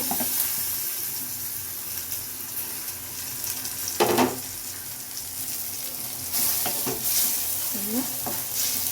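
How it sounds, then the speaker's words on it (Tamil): Tomatoes and onions fry in oil while being stirred for a dried-fish curry, a steady close sizzle with scraping stir strokes and a couple of brief clatters. "தக்காளியை நல்லா பச்சை வாசனை போகிற வரைக்கும் நம்ம நல்லா எண்ணெயில் நல்லா வதக்கி விடணும்"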